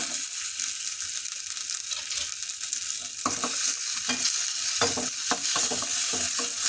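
Fresh turmeric root and black peppercorns dry roasting in a pan give a steady, close crackle, with stirring scrapes growing louder and more frequent in the second half. No voices.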